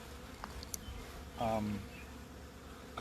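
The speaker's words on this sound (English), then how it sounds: "this hive went to one of my swarm boxes" Honeybees buzzing around a hive from a captured wild colony: a soft, steady drone, with one bee passing close and buzzing louder for a moment.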